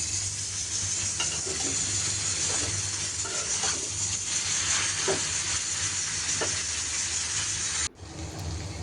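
Bitter gourd and potato with chopped onion and green chilli fry in oil on a stove, giving a steady, loud, close hissing sizzle that cuts off sharply near the end.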